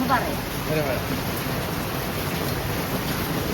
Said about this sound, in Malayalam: ഈ ടാർപ്പായ്മക്ക് വെള്ളം വീണ ഒച്ചോണ്ടേ